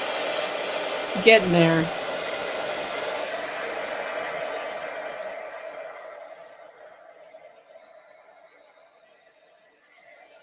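Embossing heat gun warming a craft project, a steady loud blowing whoosh that runs through most of the clip and fades toward the end, with a brief spoken remark near the start.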